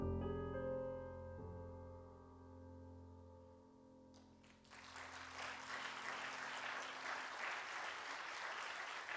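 An audience breaks into applause that swells and stays dense, coming in just after a sustained sung or played note fades, following a live song performance.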